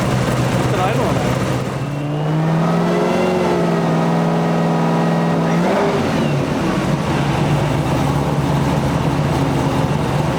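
An 800 rear-wheel-horsepower Chevrolet Camaro ZL1 engine running close by, a loud steady rumble whose pitch climbs and holds in a rev before dropping back to a rough idle, with people talking nearby.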